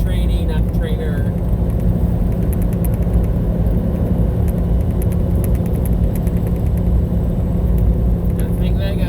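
A loaded semi truck governed at 69 mph cruises down a highway, its steady engine drone and tire rumble loud and continuous, with a driver's voice speaking over it now and then.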